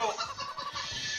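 A chicken from the video game Moving Out gives a brief, close burst of clucking and squawking, alone with no talk over it.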